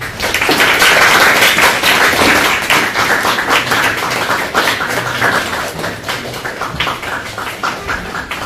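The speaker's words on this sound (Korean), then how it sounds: "축복의 박수 격려해 주시기 바랍니다" A church congregation applauds during a Korean Sunday worship service, a loud, dense wash of clapping that is strongest early and slowly tapers off over several seconds.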